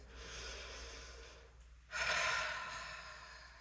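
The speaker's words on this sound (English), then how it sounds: "Take a nice inhale and exhale through your nose." A person in a strength-training session breathes slowly through the nose, one long, soft inhale followed by a fuller, louder exhale, close up with no talking.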